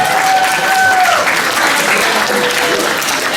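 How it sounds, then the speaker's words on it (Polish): Audience applause at a school prom-night stage show, loud and close, a thick continuous roar of clapping from a large crowd with a brief tonal sound early on. "Brawa proszę Państwa, brawa!"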